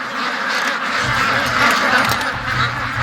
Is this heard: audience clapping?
no